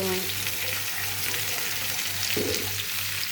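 A sticky mashed mixture of hilsa fish with banana and gourd fries in hot oil, giving a steady broadband sizzle with a low hum underneath and a brief stir partway through, with no talking.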